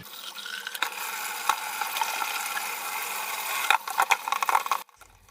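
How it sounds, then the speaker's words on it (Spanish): Hot water is poured into a car's plastic water reservoir to rinse it, giving a steady hissing, sloshing rush with a few rattling knocks near the end before it cuts off. "vamos a empezar a enjuagar."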